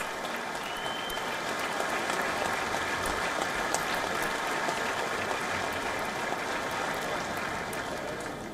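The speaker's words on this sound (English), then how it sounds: "You can see a round of applause for Melania Trump." A large audience at the 2019 State of the Union gives Melania Trump a dense, steady round of applause that holds evenly throughout with no break.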